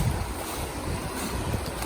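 Deep, fast-moving creek water rushes in a steady, broad wash of noise. It is close and continuous, with no voices over it.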